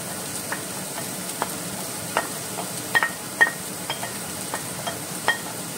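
Onion frying with browned shark pieces in a pan for a Konkani moriche ambotik, a steady sizzle punctuated by a rhythmic series of spatula taps and scrapes against the pan.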